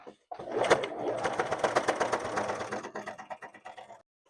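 Sewing machine stitching folded denim cut from old jeans, a fast, steady run of needle strokes lasting about three seconds, then slowing and stopping, close and clear with no talking.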